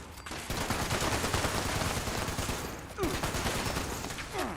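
Dense shotgun fire in Fallout 76 goes off in rapid, overlapping blasts within a chaotic fight. A short gap breaks the noise before another burst, and voices are faintly mixed in.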